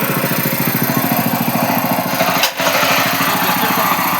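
A power weeder's small engine runs at a steady, loud, close idle with a fast pulsing chug, briefly dipping once midway before carrying on evenly.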